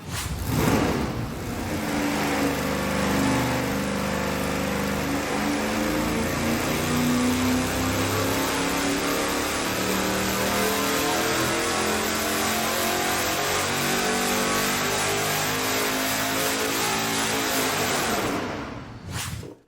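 An engine revs hard on a dyno during a pull, a loud sustained roar that climbs steadily in pitch for nearly twenty seconds before cutting off.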